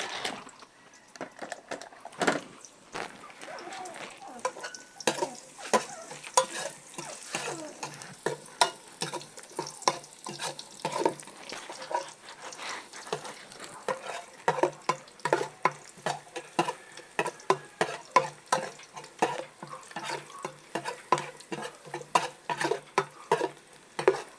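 Garlic sizzles steadily as it sautés in a pan, with a crackling hiss broken by stirring scrapes and small pops, fairly close and without voices.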